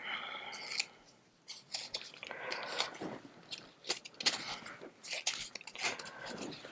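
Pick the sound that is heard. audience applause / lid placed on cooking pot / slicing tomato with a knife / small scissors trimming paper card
small scissors trimming paper card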